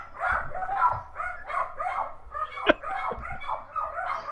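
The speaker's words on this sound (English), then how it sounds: "I got barking dogs here." Several dogs bark in close, repeated bursts throughout, a busy overlapping yapping chorus with no clear pause and one sharper, louder bark near the middle.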